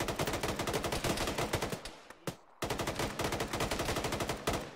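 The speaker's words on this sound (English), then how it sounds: "Shoot west, Hoff." Gunfire in the military video game Arma rattles in dense, rapid automatic bursts, loud and continuous except for one brief lull midway.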